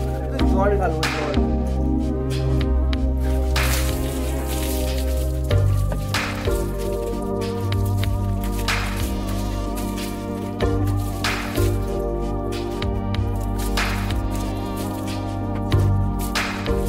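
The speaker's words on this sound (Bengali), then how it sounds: "জল ঢালবো" Water poured over a TVS Apache RTR 160 motorbike at home, with continuous trickling, dripping and squishy splashes close by over a steady droning tonal background.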